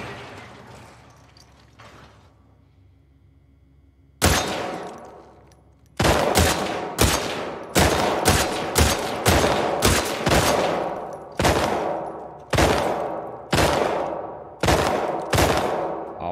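Gunfire from The Last of Us Part II as a full magazine is emptied: after a quiet lead-in, one sharp shot, then a rapid run of loud, evenly spaced reports that slows into spaced single shots near the end.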